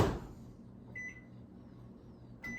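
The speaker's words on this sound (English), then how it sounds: "I'm going to put it in the microwave and I'm going to attempt to melt them" A microwave oven running to melt coconut oil, a low steady hum with a faint whir, punctuated by two short beeps partway through.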